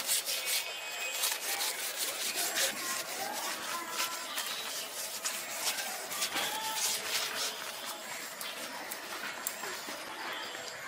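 A boal fish is scrubbed by hand before cutting, giving close, continuous wet rasping and rubbing strokes with scattered clicks, steady throughout.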